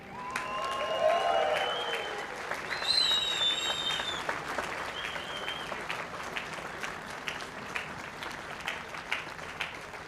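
Outdoor crowd applauses Richard Petty and his son Kyle Petty at the Goodwood Festival of Speed, broad steady clapping with whistles and cheers rising early, then a sustained wash of applause continuing under some voices.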